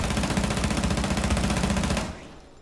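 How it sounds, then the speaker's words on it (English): A video-game machine gun empties a full 30-round magazine in one continuous, loud, rapid burst lasting about two seconds, then cuts off into a short fading tail. "3 seconds to fire an entire magazine"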